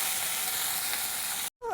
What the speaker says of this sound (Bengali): পাঁপড় ভেজে নেবো।